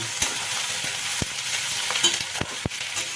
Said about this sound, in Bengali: তো এবার পোস্তটা ভেজে পেঁয়াজটা ভেজে নেবো ভালো করে